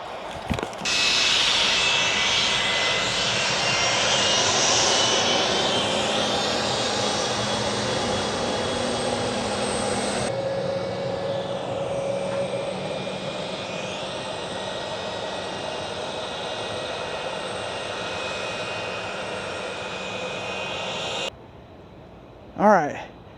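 An American Airlines airliner coming in to land at an airport, a broad roaring jet engine rumble heard from outside near the runway, loud and sustained before easing, then cutting off.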